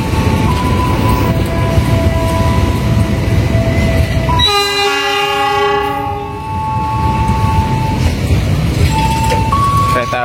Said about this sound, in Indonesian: Kereta api Pangandaran masuk di jalur 2